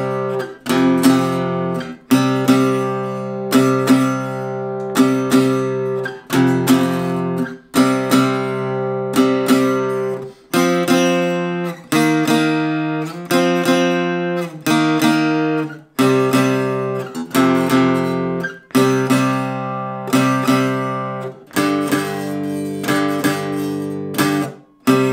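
A guitar strums the chorus of a song in loud, rhythmic chord bursts separated by short stops, with no talking over the playing.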